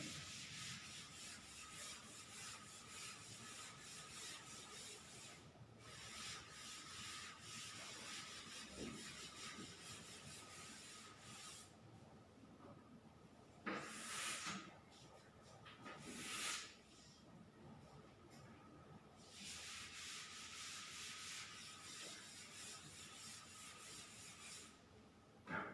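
Writing is rubbed off a board in long, steady, faint scraping strokes, broken by a few short pauses and brief rasping bursts, with no talk over it.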